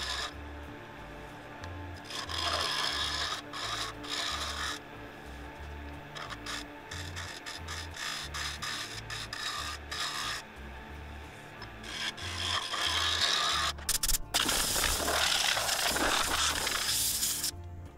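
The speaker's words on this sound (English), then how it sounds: "I've switched over to my bowl gouge again, and I'm taking that mistake out" A bowl gouge cuts a wooden bowl spinning on a lathe, giving a continuous rasping scrape with a regular pulsing beat, growing louder and harsher near the end.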